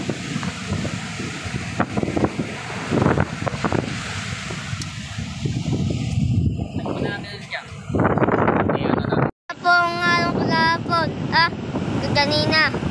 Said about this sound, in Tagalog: Tsaka lakas po ng hangin.